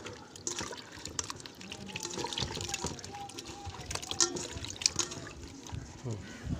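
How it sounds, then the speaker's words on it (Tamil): Sliced raw banana pieces are rubbed and rinsed by hand in water in a village kitchen, with soft sloshing, trickling and small splashes and a few clinks, all close and moderately quiet. "நல்லா அந்த மாதிரி ஒவ்வொரு இதையும் நல்லா தேய்ச்சி கழுவிக்கணும்"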